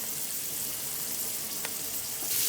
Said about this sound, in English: I'm going to add ginger and green chili together, so we can fry all together till brown.